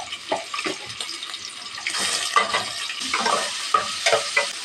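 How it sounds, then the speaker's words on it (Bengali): Vegetable fry cooking on a stovetop, with a close, loud sizzle and repeated scraping stir strokes in an uneven rhythm, plus a watery running sound underneath. "ভাজিটা ওই চুলায় দিয়ে দিলাম।"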